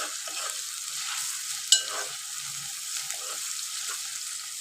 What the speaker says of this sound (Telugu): ఆనియన్స్ కూడా చూడండి మంచిగా కడక్గా ఫ్రై అయితే అవుతున్నాయి